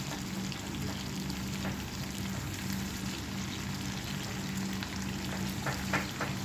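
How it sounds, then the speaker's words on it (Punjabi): Fish frying in a pan with onion and green chilli gives a dense, steady sizzle that runs throughout without pause, with faint crackles near the end. "10 ਮਿੰਟ ਤੋਂ ਬਾਅਦ ਆਪਾਂ ਫਿਸ਼ ਦੀ ਸਾਈਡ ਚੇਂਜ ਕਰਾਂਗੇ ਤਾਂ ਕਿ ਫਿਸ਼ ਦੋਨੋਂ ਸਾਈਡ ਤੋਂ ਚੰਗੀ ਤਰ੍ਹਾਂ ਫਰਾਈ ਹੋ ਜਾਵੇ"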